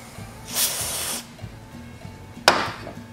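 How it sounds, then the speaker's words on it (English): Compressed air or spray hissing out a part from a DR leaf vacuum engine in a workshop, two bursts: a longer one early and a sharp short one later, over a low steady background hum. "And then spray it out"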